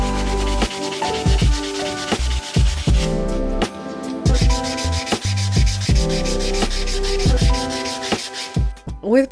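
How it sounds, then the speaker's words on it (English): Orbital sander doing corrective sanding on the wooden top of a painted hutch, heard close and steady with repeated bursts and pauses as the pad is pressed and moved. "I'm just taking my orbital sander and doing some corrective sanding to smooth it out"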